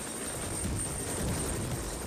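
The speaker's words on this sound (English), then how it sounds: "The helicopter dropped us and our equipment at the rendezvous site" A helicopter on a thick sheet of sea ice miles from base camp, a steady broad rotor and engine rumble holding at an even, fairly loud level throughout.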